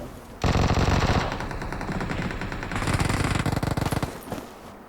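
Rapid automatic gunfire from the battle royale video game BGMI, loud and close, with dense bursts of shots running nearly continuously through the clip and a faster volley near the end.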